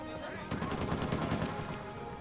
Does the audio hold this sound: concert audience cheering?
no